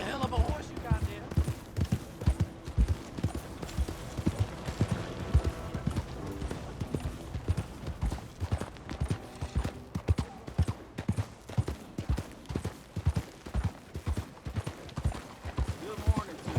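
Horse hooves in Red Dead Redemption 2 clip-clop in a steady, even rhythm throughout, close and clear, with a brief spoken exchange partway through.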